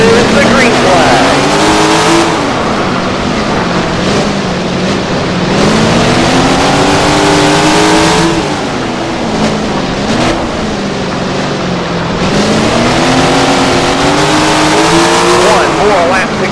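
Several 410 sprint car engines roar continuously in a racing video game, their pitch rising and falling in long sweeps as they circle the track, loud and close, with a race announcer's voice over them.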